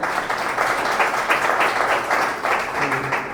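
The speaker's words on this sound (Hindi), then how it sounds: "राजेश का छोटा भाई खड़े हो जाएंगे, हम इनके लिए भी जोरदार ताली देंगे।" A congregation at an Easter prayer service applauding a first-time visitor, a steady mass of clapping hands with faint rhythmic pulses, moderately loud and nearby, and no speech over it.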